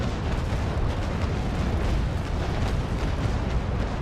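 A naval cannon broadside firing in the Naval Action video game, a dense continuous roar of booming blasts that stays loud for the whole stretch, with no voices.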